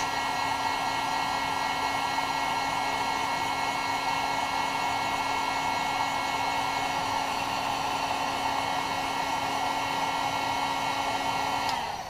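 A hot air tool blows steadily on PVC pipe to soften it, a constant loud whirring hiss with a fixed hum, unbroken for about twelve seconds with no talking.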